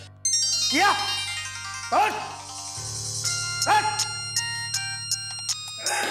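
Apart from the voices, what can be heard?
mobile phone ringtone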